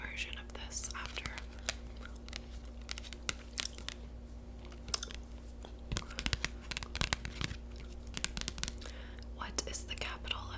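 Gum chewing up close for ASMR, soft wet smacks and crunchy clicks in an irregular rhythm running under continuous whispered talk.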